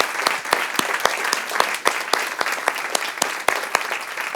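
An audience at a library author talk and Q&A claps for author Brendan Slocumb, a moderately sized crowd giving a steady round of applause with distinct individual claps standing out.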